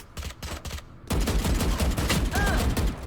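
Gunfire while moving and shooting in Valorant: a few quick shots at first, then a loud sustained burst of rapid automatic fire that continues to the end.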